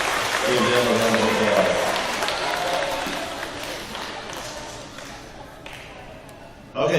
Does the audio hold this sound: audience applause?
yes